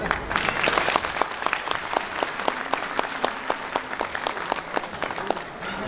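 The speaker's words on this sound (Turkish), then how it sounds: "Herkese bir alkış." Loud, close applause from an audience at a village culture and entertainment program in Saptıran, Aşkale, Erzurum, with many distinct hand claps that thin out slightly toward the end.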